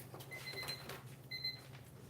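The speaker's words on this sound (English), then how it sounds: "so the alarm has went off" An alarm sounds in two short bursts of faint electronic beeping while soap is being made at home.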